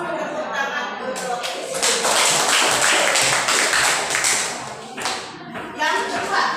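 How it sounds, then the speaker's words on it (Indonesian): A classroom group claps hands together, a loud burst of applause that builds, holds for a few seconds, then dies down with a short final flurry, with children's voices faintly mixed in. "Ya, tepuk tangan dulu."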